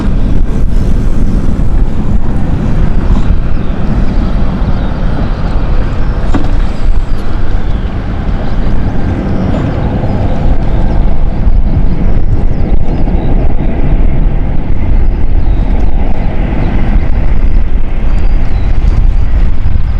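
Swiss E2 passenger jet on Pratt & Whitney 1000 engines landing at London City after a flight from Zurich, a loud, steady roar with a low rumble and a whining growl, buffeted by wind, lasting throughout with no talk.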